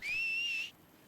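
A person whistles a single clear, fairly quiet note that rises slightly at the start, holds steady for over half a second, then cuts off.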